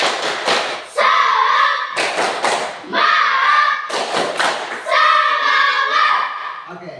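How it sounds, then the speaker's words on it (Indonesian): A class of children doing a rhythmic cheer clap together, loud bursts of clapping in a patterned beat alternating with group chanting, repeated three times. "Kita tepuk semangat bersama-sama."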